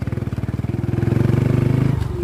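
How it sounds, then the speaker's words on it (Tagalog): A motorcycle engine throbs in a fast, even pulse close by, growing louder as it revs on a mountain road near Mt. Balungao. "Ang lakas ng motor ni Master Boom, ah."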